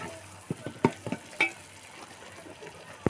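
A spoon scrapes and knocks in a pan as masala is stirred and mixed during cooking, several separate clinks and scrapes over a low sizzling background.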